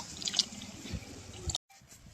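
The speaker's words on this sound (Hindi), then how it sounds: "तो अब हम इसमें डाल लेते हैं दूध।" Milk splashes in a short pour into ghee-roasted sweet potato halwa in a pan, a brief, quiet liquid spill that cuts off abruptly, with no voices.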